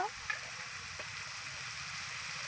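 Country chicken curry starting to simmer in a pot over a wood fire gives a steady, faint sizzle and hiss that runs on without a break.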